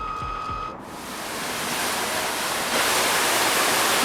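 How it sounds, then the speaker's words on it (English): Water rushing through a partly opened flood gate into Elmhurst Quarry, a flood control reservoir, making a steady loud roaring torrent that swells slightly and continues unbroken throughout. "And this is where the water comes in."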